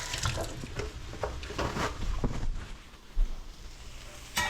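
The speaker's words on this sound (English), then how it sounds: "Wash my hands, a bit sticky." Running tap water splashing over sticky hands being washed, an uneven close rush of water with brief splashes and pauses.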